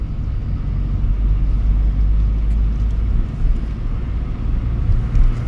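Driving school car engine rumbling steadily from inside the cabin as the throttle is pressed, a low continuous drone with slight swells and no talk.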